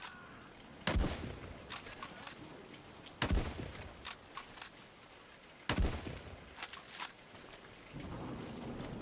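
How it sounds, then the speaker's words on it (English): Three sharp, booming cracks spaced a few seconds apart, each followed by a quick cluster of smaller pops, over a low background hiss; distant gunfire in the war video game Land of War: The Beginning. "Those gunshots sound kind of close."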